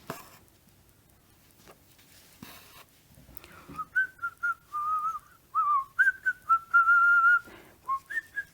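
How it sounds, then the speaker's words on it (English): A person whistling on an inhaled breath indoors, a run of short, breathy tonal phrases after a few seconds of near silence with faint handling sounds, close and clear. "I whistle sucking in."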